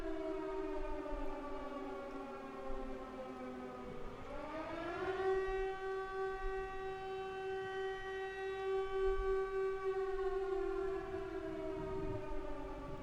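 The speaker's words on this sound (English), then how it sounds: "Siren, siren, sirens." An air-raid style siren wails in the Silent Hill 3 video game, its pitch dipping and then rising into a long sustained howl over a low rumbling background.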